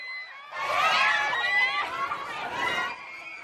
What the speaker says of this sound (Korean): 일부러 더 환호하며 맞았습니다.